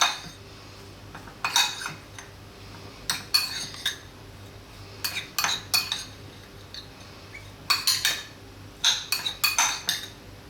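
A spoon clinks and scrapes against a bowl while garlic cheese sandwich filling with salt and black pepper is mixed, in several short bursts of rattling metal-on-dish sounds separated by quiet pauses, close and with no talking.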